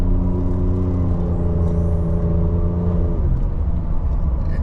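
A Ford 3.5 EcoBoost pickup on 37-inch tires with an upgraded intercooler accelerates hard, its engine drone rising steadily in pitch, then easing into a lower, rumbling cruise, loud and close.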